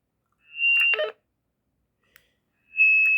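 Walkie-talkie transmission tones after pressing push-to-talk on an analog handheld radio: two loud steady electronic beeps with a crackly burst of radio noise, separated by a quiet gap and a tiny click, no talk.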